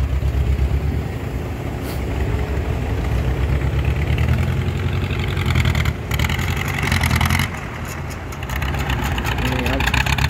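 A farm tractor's diesel engine runs steadily nearby, a loud low rumbling drone with brief fluctuations, while people talk over it.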